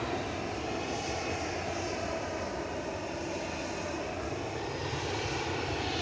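A Brussels Airlines Airbus A319-100 in Star Alliance livery lands at Edinburgh Airport, its engines a steady, loud, unbroken roar for the whole stretch.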